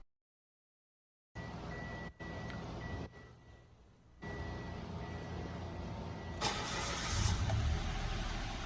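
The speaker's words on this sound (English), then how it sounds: "when we turn on the car" After a moment of silence, a Mitsubishi Mirage engine cranks and catches, then settles into a steady idle with a brief rev toward the end.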